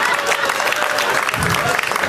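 Applause from a comedy club audience at a stand-up show, a dense steady patter of clapping close by with some crowd noise and voices mixed in, holding for about two seconds.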